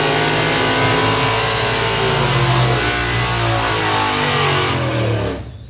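Engine roar of cars at a drag strip, mixed vehicles on a run-what-you-brung day, a loud sustained revving drone with layered engine tones that holds steady for several seconds then cuts away abruptly near the end.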